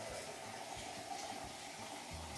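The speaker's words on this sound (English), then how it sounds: "The first thing we need to do is put 2 litres of hot tap water into our bucket." Hot tap water pours steadily into a bucket while a white wine kit is being prepared, giving a faint, continuous rushing splash with no talk.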